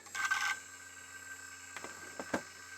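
An old hard drive spinning up on a bench power supply gives a steady, quiet tonal whine and hum, with a buzzy rattling burst at the start and a few sharp clicks and knocks later, no voices.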